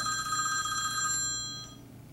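A telephone ringtone plays near a hermit crab, a bright, clear electronic ring that rings steadily for over a second and then fades out, alone in a quiet room.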